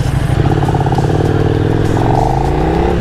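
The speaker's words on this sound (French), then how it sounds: "T'entends que le moteur." A car's engine drones loud and close from inside the moving vehicle, a rough pulsing mid-rev note that rises slightly toward the end, with no voices over it.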